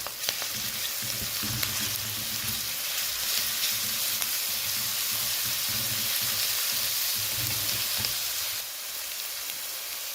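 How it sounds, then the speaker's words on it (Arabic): Crushed garlic sizzling in hot oil with onions for a mandi rice dish, a steady close frying hiss with light stirring, continuing without a break and dropping slightly in level near the end. "هنا معانا ثوم مهروس، نضعه مع البصل والزيت"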